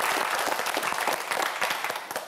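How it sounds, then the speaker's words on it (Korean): A studio audience gives a student quiz contestant a brief, dense burst of applause before the final round, many hands clapping together at an even level without talk. "박수 보내주세요."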